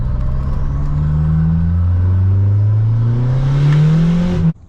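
A 1989 Dodge Lancer Shelby with a 2.2 turbo engine drives by, its loud engine note rising steadily in pitch as it accelerates, then cutting off abruptly at the end.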